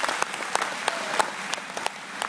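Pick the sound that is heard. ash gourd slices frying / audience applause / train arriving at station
audience applause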